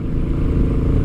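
Royal Enfield Meteor 350 Fireball motorcycle engine running smoothly at a steady pitch, a continuous low rumble with no talk.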